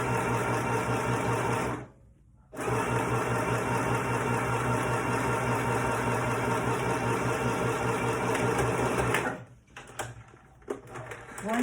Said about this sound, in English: So I'm going to back stitch, and then I'm going to sew